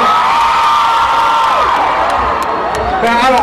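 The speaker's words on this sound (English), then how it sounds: "Ladies, make some motherfucking noise." A women's section of a live hip-hop concert crowd at an outdoor festival screams and cheers loudly, with high sustained shrieks and whoops filling the space continuously.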